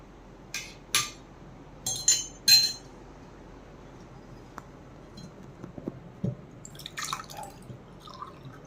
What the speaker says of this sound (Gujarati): હવે તેને આપણે ગળણીથી ગાળી લઈશું ગ્લાસમાં.